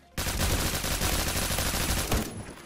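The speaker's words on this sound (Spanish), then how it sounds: "Todos esos tiros y no mueren" Sustained rapid gunfire from a Roblox Phantom Forces match, a dense continuous burst lasting about two seconds, loud and close, ending abruptly.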